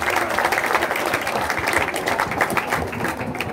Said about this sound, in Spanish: Calurosos aplausos para el maestro.